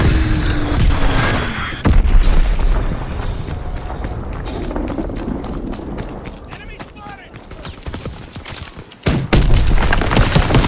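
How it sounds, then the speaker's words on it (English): Enemy bomb blasts and booming gunfire in the World War II shooter Call of Duty WW2, loud and dense across the battlefield, with sharp hits standing out over a churning background of combat noise and voices. "Enemy bomb incoming!"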